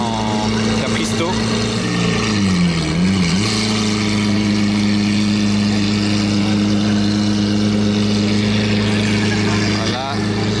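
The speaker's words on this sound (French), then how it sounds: "Oh, elle fait un bruit, là, la Aventador SV. Il y a l'échappement ouvert, là, en Capristo." A Lamborghini Aventador SV with an open Capristo exhaust rumbles loud and close, its engine note holding steady with a brief rise and fall in pitch, sounding in a tunnel setting.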